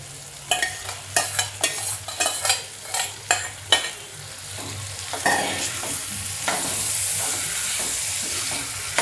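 Eggplant and green chickpeas are stirred in a sizzling pan, with a run of spatula scrapes and stirring clatters giving way to a steady frying hiss.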